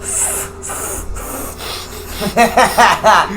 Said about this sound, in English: The kitty be smelling the mic.